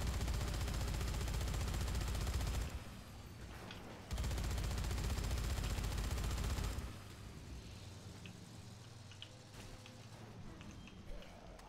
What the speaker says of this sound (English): the gun over here is really quick